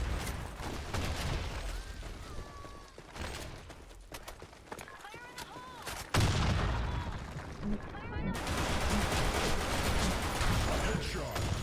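Gunfire from the LWRSC Sandstorm in the shooter game Blackshot, dense repeated shots and mechanical clatter layered with game effects, steady and loud throughout, growing busier in the second half.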